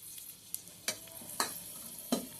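Dried red chillies dropped into hot oil with mustard and cumin seeds for tempering, a soft close crackling hiss marked by a few sharp spattering pops.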